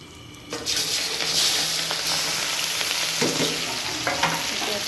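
Chopped onion and cumin powder drop into hot oil and burst into a loud, steady frying sizzle after a brief quiet start, with occasional stirring scrapes throughout.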